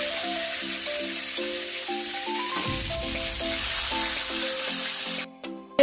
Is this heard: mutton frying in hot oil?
yes